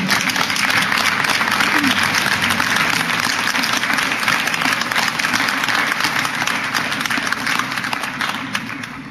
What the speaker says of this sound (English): would you join me in giving a warm round of applause and congratulations to Laura Goldman